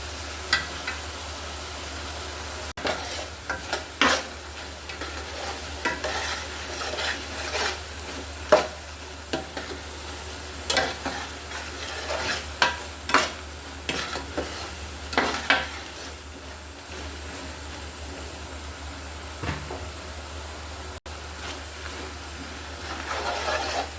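Garlic pickle cooks on low heat in a pan, with a soft steady sizzle under intermittent scraping and clinking of a spoon stirring against the pot, close by and with no talking.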